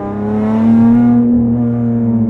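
A Lotus Evora GT430 with a Stage 2 exhaust accelerates, its engine droning loud and close with a rising, strongly harmonic tone that swells and then eases slightly.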